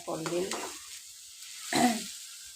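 Garlic and onion fry in oil with a steady soft hiss, while a nearby voice speaks briefly at the start and again near the end.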